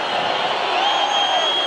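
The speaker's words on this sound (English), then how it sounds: "And the crowd salutes Felix Trinidad." A boxing arena crowd cheers Felix Trinidad after his knockout win over Mahenge Zulu, a loud, dense and sustained roar that fills the short moment without a break.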